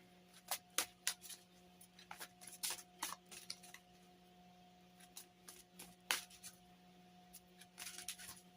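Oracle cards being shuffled by hand, a string of soft papery riffles and slaps in uneven bursts, close and fairly quiet over a steady low electrical hum.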